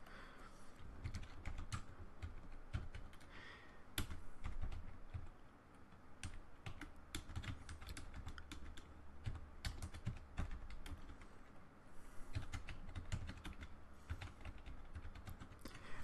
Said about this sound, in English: we can show the passphrase as we type it.